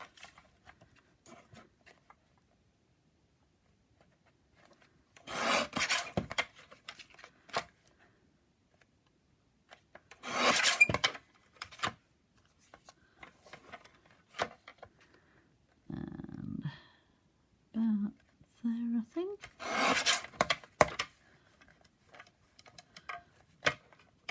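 A small craft cutter trims a paper stencil piece for a poinsettia frame in a few short bursts of scraping and snipping near 6, 10 and 20 seconds, each close and crisp, with quiet handling noises between.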